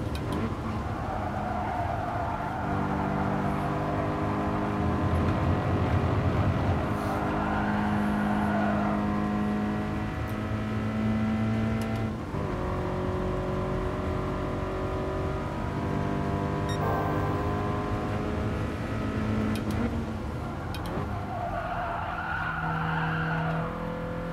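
A Toyota 86 race car in the video game GT Sport laps the Yamagiwa track, its engine droning and rising and falling in pitch through shifts and throttle changes while the tires squeal and skid through turns, loud and steady throughout.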